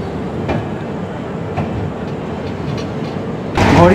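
Steady rumbling and rattling of the Gwalior–Kolkata Superfast Express heard from inside a moving coach, with faint knocks and a sharper burst of noise right at the end.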